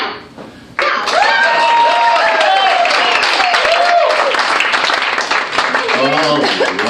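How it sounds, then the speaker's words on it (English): Audience applause breaking out at a cowboy-themed stage show, a sudden burst of dense clapping that sustains loudly for several seconds, with a voice speaking over it near the end. "Applaud now."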